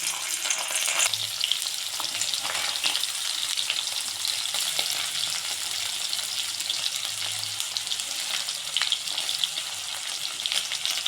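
Paneer pieces fry in hot oil in a kadai, giving a steady broadband sizzle that stays loud and continuous throughout, with occasional brief clinks and stirring sounds and no talking.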